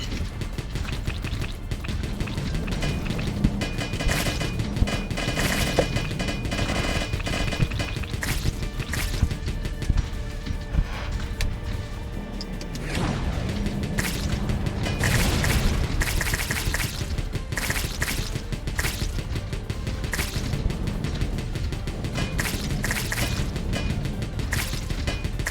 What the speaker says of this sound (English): let's go back to machine gun